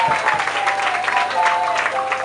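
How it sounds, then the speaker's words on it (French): Applause for the bride at a civil wedding ceremony, a short burst of even crowd clapping heard throughout with faint voices underneath. "Applaudissez pour mademoiselle également."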